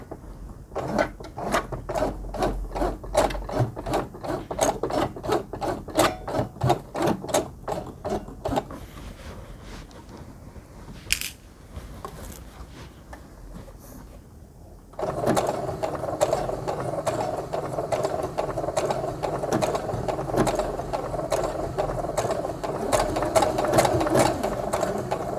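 A sewing machine stitches a blind hem on a skirt, running in quick even bursts of rapid needle clatter, pausing briefly with a small click, then resuming in a denser, steadier whir nearby.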